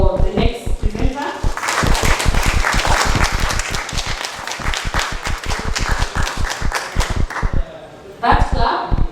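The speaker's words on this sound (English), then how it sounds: "That clap is to welcome you, Aleta" An audience gives a steady round of clapping to welcome the next presenter at an online workshop session, dense and fairly close, briefly fading before a few final claps.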